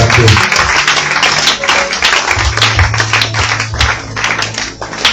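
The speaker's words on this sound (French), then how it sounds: "tu ajoutes encore des acclamations" Church congregation in Ouesso, Congo, applauding and acclaiming God: loud, dense rapid hand clapping mixed with cheering voices and a low droning hum underneath.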